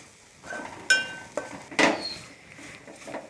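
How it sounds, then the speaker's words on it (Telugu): A spatula scrapes and clinks against a pan while stirring and frying a jaggery and grated coconut filling with poppy seeds and cashews: several sharp metallic taps and scrapes, close and fairly clear. "దగ్గరుండి కలుపుకుంటూ మంచిగా వేయించుకోవాలండి బాగా"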